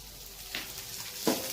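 Chopped capsicum sizzles in hot oil in a pan during Manchurian cooking, a soft continuous frying hiss broken by two brief louder crackles as it is stirred.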